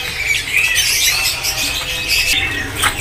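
A black kedasi cuckoo in a bird market kiosk calls with squawky, chirping notes, loud and close, over a busy background.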